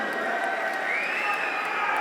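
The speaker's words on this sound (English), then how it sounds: "can we get a round of applause for both bosses in the ring?" Crowd in a boxing venue applauding and cheering both fighters in the ring, a steady roar of clapping and voices with a rising whistle-like tone carried over the top.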